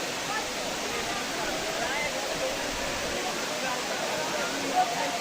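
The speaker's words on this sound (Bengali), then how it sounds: "জাস্ট এই ঝর্ণার সাউন্ডটা আপনারা শুনুন।" The third tier of Khoiyachara waterfall in full monsoon flow, a constant broad rushing roar of falling water, close and unbroken for the whole stretch.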